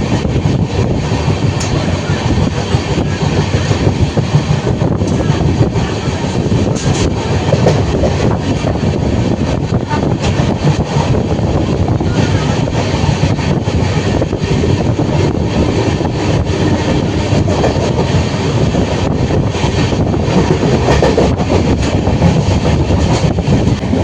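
The 12821 Dhauli Express passenger train runs from Kolkata toward Puri, a steady loud rolling rumble with rattling carriages and faint clickety-clack throughout.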